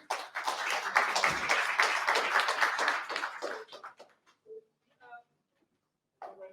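An audience at a startup pitch event applauds a presenter, with steady, fairly full clapping for about four seconds that thins out and stops, followed by brief sparse sounds and a bit of voice.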